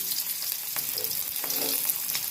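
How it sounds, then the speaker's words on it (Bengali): Potatoes frying in hot oil for a Bengali prawn and jackfruit dish, a steady hissing sizzle with a few faint pops and stirring touches, close and continuous. "আলুটা আমি ভেজে নেব তার জন্য আলুগুলো দিয়ে দিলাম"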